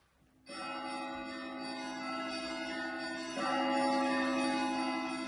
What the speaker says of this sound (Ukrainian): Почувши дзвони, що лунали із церковної дзвіниці, Кайдаш узяв шапку та пішов до церкви